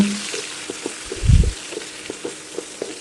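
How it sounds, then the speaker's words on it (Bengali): Shrimp frying in a pan of oil for a taro-leaf curry, with soft crackling sizzle and a brief louder burst of bubbling midway through a short, otherwise quiet stretch. "আস্তে আস্তে এখন আমি ভেজে নিব"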